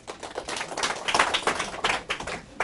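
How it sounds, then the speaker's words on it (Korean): Audience clapping at a talk, a dense burst of hand claps filling the whole moment at moderate loudness, no voices over it. "박수"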